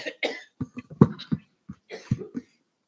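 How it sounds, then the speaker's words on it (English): Someone coughs repeatedly at a school board meeting, a close series of harsh bursts in two clusters with brief pauses between. "A lot of coughing, yes."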